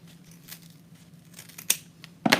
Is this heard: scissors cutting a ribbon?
yes